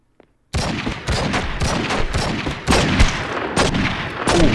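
Rapid bursts of gunfire from the True Crime: New York City video game erupt after a brief silence, sharp repeated shots close and loud in an uneven rhythm for several seconds.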